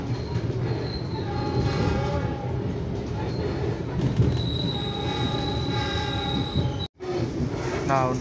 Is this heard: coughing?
no